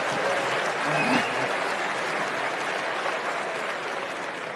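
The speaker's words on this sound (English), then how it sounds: "I hope you're applauding over coming to Berkshire" Applause at the 1994 Berkshire Hathaway shareholder meeting: a large audience in a big hall claps steadily, a dense, even wash of hands that holds at a constant level throughout.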